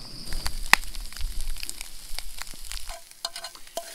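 Eggs fry in a worn, no-longer-non-stick pan after bacon, giving a steady close sizzle and crackle with occasional sharp scrapes and clinks of a utensil against the pan.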